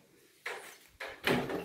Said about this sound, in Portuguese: Vou encostar a porta pro vento não levar